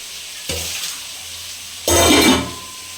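Excess water running off strained potato and radish leaves in a kitchen, heard as two watery splashing gushes, a short one followed by a louder, longer pour that tapers off, with no talk.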